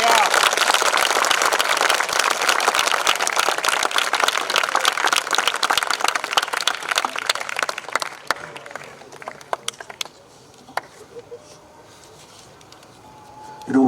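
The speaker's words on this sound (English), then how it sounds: "Give them a louder round of applause." Audience of La Martiniere boys in Lucknow applauding performers at a concert: loud, dense clapping for about eight seconds, then thinning to scattered claps and fading toward quiet.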